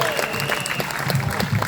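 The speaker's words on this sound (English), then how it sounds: "Round of applause for Lindsay German." Political meeting audience applauding speaker Lindsay German, a brief burst of crowd clapping with murmuring voices mixed in.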